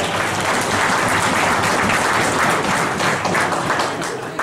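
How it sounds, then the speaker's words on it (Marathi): Audience at a speech event applauding for Om, a dense, loud, sustained round of clapping that holds steady throughout without talk. "मी टाळ्या वाजवून हरकत नाही, ओम साठी वाजवा"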